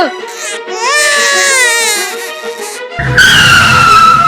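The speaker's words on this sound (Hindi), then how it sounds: "अरे ये किसके रोने की आवाज है बेटा?" A baby in a cartoon wails loudly and close, rising into long quavering cries that break off and then resume in a sharper, higher sob.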